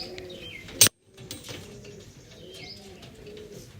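Pigeons coo softly in a loft of blue pigeons, low repeated calls alongside a few chirps and one sharp metallic jangle, with no talking.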